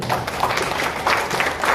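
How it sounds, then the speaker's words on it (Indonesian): Audience applause at a motivational business talk, a steady wash of many hands clapping at moderate loudness throughout. "Tepuk tangan dong Bapak Ibu"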